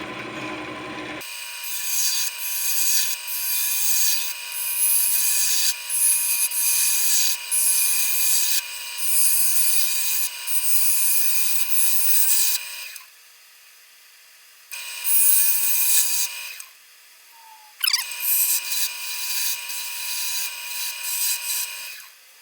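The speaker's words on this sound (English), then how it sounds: "let's do the 1/2 inch bowl gouge" A half-inch bowl gouge cuts chestnut oak spinning on a lathe, giving a steady bright shearing hiss over the motor's hum, broken by a few brief pauses where the tool lifts off and the lathe runs alone.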